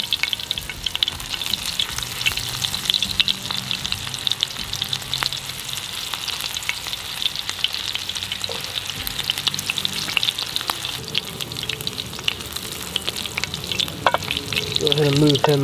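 Fish, including a big piece, frying in shallow oil outdoors, a steady loud crackling sizzle with scattered pops throughout, no voices.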